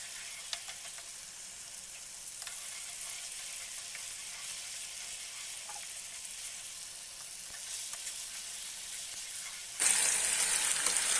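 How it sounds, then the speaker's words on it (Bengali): Onion and garlic sizzle steadily in a pan of hot oil, a continuous close frying hiss that grows brighter and louder near the end, with no voices. "একটু ভাজা ভাজা করে নিচ্ছি।"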